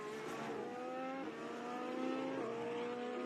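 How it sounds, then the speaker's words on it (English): Formula 1 car engine during practice at the Australian Grand Prix, Piastri's McLaren feathering the throttle through turn 10, a continuous loud high whine with the pitch dipping and rising in short steps as the throttle eases and returns. "You can hear the feather of the throttle there for Piastri coming through turn 10"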